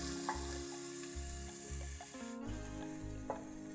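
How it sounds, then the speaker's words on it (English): Chopped scallions and minced garlic sautéing in a pan as they are stirred, a soft steady sizzle with low rhythmic humming tones beneath and a few light utensil scrapes, fairly quiet and without speech. "we're going to just cook and stir these for a few minutes by themselves"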